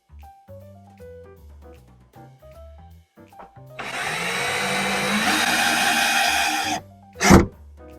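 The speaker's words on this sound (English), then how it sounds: "I already drilled it into the wall." A power drill bores into a living room wall for about three seconds, a loud steady whirring grind, followed by a brief thump, with light clattering and shuffling around it.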